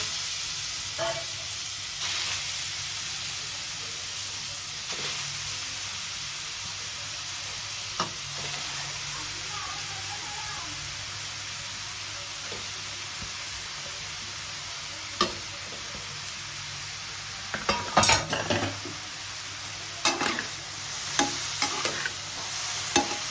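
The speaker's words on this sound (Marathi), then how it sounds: "आता गाजर परतवून घेऊया" Grated carrots sautéing in ghee in a pan for gajar halwa, a steady soft sizzle with occasional scraping stirs and clinks of a spatula that grow busier toward the end.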